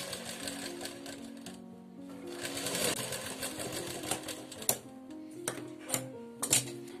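A sewing machine stitching small frills onto larger frills for bell sleeves, running in steady rapid whirring bursts with brief pauses and a few sharp clicks, close and fairly quiet.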